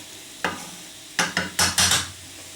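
Vegetables sautéing in a pan while being stirred for a tomato-sauce dish, giving several separate bursts of scraping and sizzling, with the later ones closer together, fairly close and moderately loud with no talk.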